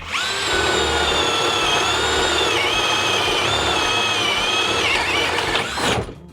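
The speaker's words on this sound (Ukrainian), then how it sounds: "зараз Соломія перевіра на перевом сверлі 20 мм і скаже, яким легше сверлити" A cordless drill boring with a 20 mm bit, producing one sustained whining drone with slight pitch dips as the load shifts, close and loud, ending abruptly after about six seconds with no talk.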